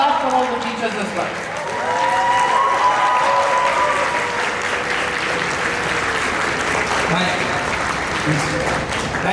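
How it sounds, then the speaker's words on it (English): Students stand and clap for their teachers at a graduation ceremony, a dense, sustained round of crowd applause, with voices and cheering mixed in and a speaker's voice over the top. "I would want all the students to stand up and clap for all the teachers as well"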